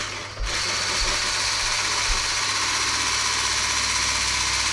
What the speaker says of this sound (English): I'm going to whisk it up a small bit just to thicken it